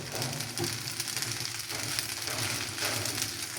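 Pasta cooking in ghee with tomato sauce sizzles and crackles continuously in the pan, a busy, close frying hiss with occasional stirring scrapes.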